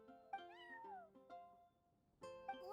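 A cat meows several times in a row within the Genshin Impact video game, the calls clear and tonal with rising and falling pitch and a short pause before a final louder cry, with no talking.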